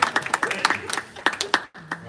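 Small audience claps in scattered, uneven bursts at a talk, sharp hand claps over a couple of seconds before they trail off, with voices in the background.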